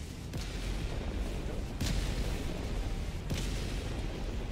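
Rocket blasts from enemy rocket devastators in a video game: three sharp explosions about a second and a half apart punch through a constant rumbling battle din.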